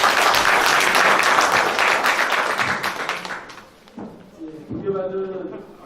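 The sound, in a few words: audience applause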